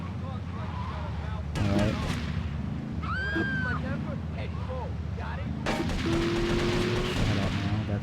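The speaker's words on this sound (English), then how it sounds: "I'm getting shot at." Bursts of gunfire in Grand Theft Auto: Liberty City Stories crackle amid game effects and music, with someone briefly speaking over the action.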